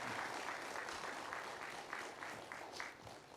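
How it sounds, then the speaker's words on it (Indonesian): Sustained applause from an audience, a dense wash of many hands clapping that stays steady and gradually softens, heard from a slight distance. "Boleh kita berikan tepuk tangan untuk Dr."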